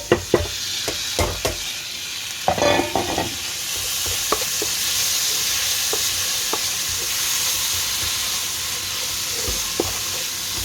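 Canned fish pieces, added with their water, sizzle steadily in a hot pan, with sharp clinks and scrapes of stirring scattered across the first few seconds; no one speaks.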